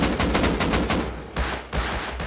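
Rapid automatic gunfire in the survival game Rust, a loud close burst of evenly spaced shots followed by two shorter volleys, with no talking.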